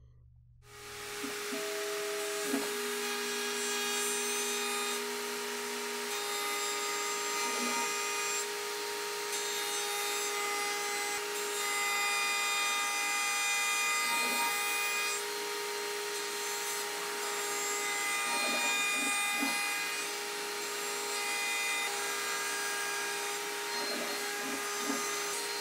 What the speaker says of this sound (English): with the same cutter, I finish up the control cavity contour.